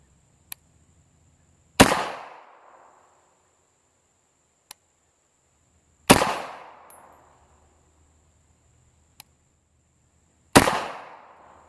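Three loud, sharp pistol shots from a brand-new Bersa firing Remington 100 grain flat point rounds, spaced about four seconds apart outdoors, each with a decaying echo, with faint clicks between them.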